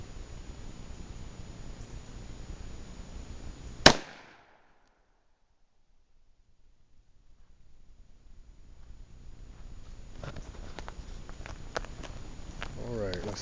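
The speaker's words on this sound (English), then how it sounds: "shot and see if I can recover the slug from the Remington 125 grain semi-jacketed hollow point so we can compare it to the Fiocchi" A .357 Magnum revolver fires a single Remington 125 grain semi-jacketed hollow point round: one sharp, loud report that cuts off into near silence, followed by faint handling rustle and ambient noise building back up.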